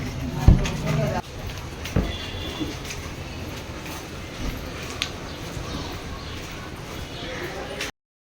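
Passengers ride inside an auto rickshaw, with a steady, fairly loud rumble of engine and road noise running throughout, a few sharp knocks and bumps near the start, and faint voices in the background.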